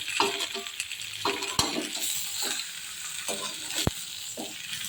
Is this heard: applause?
no